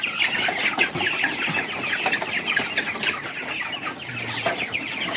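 Many chickens cluck and chatter close by in a coop, overlapping in a busy, continuous flock noise.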